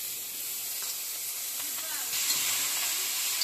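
Chickpea greens hit a hot pan where a turmeric-coated fish head is frying, throwing up a steady bright sizzle and hiss. The sizzle grows a little louder near the end, with light stirring noises.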